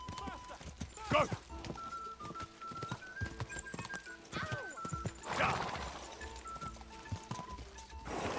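A horse in the video game Kingdom Come gallops with rhythmic clip-clop hoofbeats and lets out several loud neighs, with a voice talking over it.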